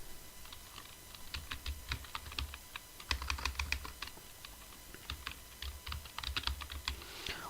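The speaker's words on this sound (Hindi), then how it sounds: "तो मैं विंडोज़ का पासवर्ड को यहाँ पर टाइप कर लेता हूँ।" Someone types a Windows password on a computer keyboard, with a quick run of close, crisp key clicks in uneven bursts and short pauses, and no talk.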